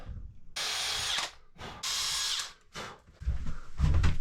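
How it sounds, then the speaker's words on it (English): Power drill driving screws into wood while fitting a wooden cabin door on a classic wooden boat under restoration, heard as several separate high whirring bursts with short pauses between, close and fairly loud. "Going to put 2 more screws in here."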